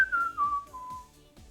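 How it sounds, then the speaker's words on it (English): A single short whistled note slides downward and trails off, a quick comic sound effect heard clearly and on its own. "And Esdeath would go to just look away and start whistling"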